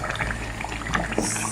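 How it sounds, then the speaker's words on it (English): Okra mixed with hot water poured into a pot of banga soup, giving a thick, gurgling liquid splash up close for a second or so. "So we are going to be adding the okra. So I just mixed it with a little bit of hot water."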